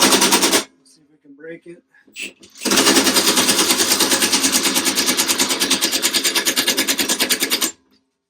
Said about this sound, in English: So a 7/8 socket to take the pulley out.